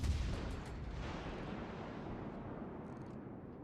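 Ship guns firing in the naval video game World of Warships Legends, one deep booming blast at the start that rumbles and fades into a long low roar, no talking.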